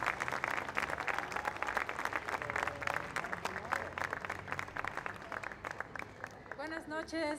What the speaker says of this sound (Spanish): vamos a pedir un fuerte aplauso